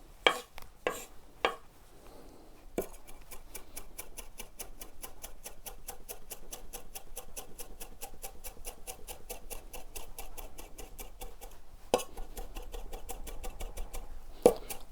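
Vegetables chopped with a Chinese cleaver on a board, a few separate knocks at first, then a fast, even run of rapid close taps that continues for several seconds before a few heavier final chops.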